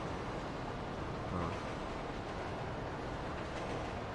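A cargo train in a video game rumbles along with a steady, even noise at a moderate level, and no one speaks over it.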